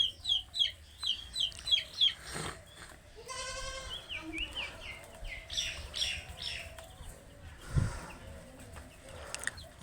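Chickens cluck in quick repeated bursts, mixed with bleating farm-animal cries nearby.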